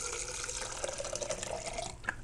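Cold water is poured for a protein shake, a steady close splashing and trickling stream lasting the whole moment with a brief drip near the end.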